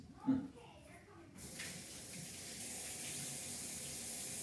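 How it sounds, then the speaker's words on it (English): Tap water runs steadily into a kitchen sink as hands are washed, a continuous hiss after a brief voice at the start, close and moderately loud. "Again, we'll wash our hands."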